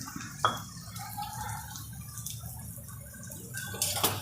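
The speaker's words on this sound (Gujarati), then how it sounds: "આ એક ચમચી આપણે મોટી ખાંડ લીધી છે એમાં આપણે થોડું પાણી નાખી દઈશું" Water trickles and splashes into a spoonful of coarse sugar to make syrup, a faint close pour with small drips and a brief louder splash near the end.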